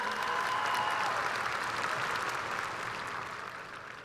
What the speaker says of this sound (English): Let's give a big round of applause to Catherine and her family on a job well done.